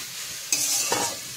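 Chopped ghetkul leaves cooking in a pan: a steady soft sizzle with two quick scraping stirs, close and fairly quiet.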